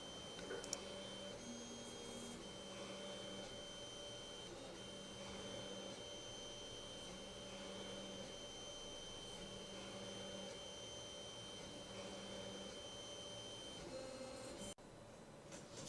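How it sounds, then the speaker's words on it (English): Home 3D printer at work with a poorly calibrated extruder, a faint steady motor whine and hum with recurring short stuttering buzzes as the head moves, ending in a brief drop near the end. "if you listen closely, you can hear the stuttering as the extruder is moving towards the camera"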